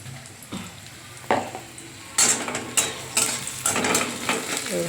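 A slightly watery spice paste sizzles in a hot pan while a spoon stirs and scrapes, with sharp clattering hits against the metal and a steady frying hiss underneath.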